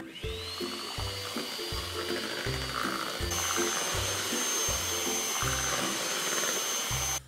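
An electric mixer whips a strawberry Tang dessert mixture in a home kitchen until creamy, a steady high motor whine over a rhythmic low thumping of the beaters against the bowl, close and continuous.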